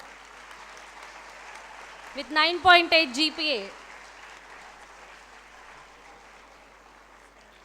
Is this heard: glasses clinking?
no